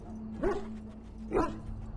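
An injured dog whimpers in the video game Dragon Age: Origins, two soft whining cries about a second apart over a low steady hum.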